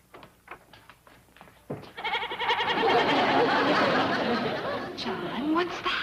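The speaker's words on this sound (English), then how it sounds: "It's a goat" A goat is brought into a house and bleats loudly and repeatedly at close range, with people talking and laughing around it.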